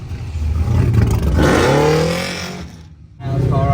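A modified car at a Powercruise burnout event is cranked over and revved hard, its engine note climbing and then falling away before dropping briefly to near silence and roaring back again.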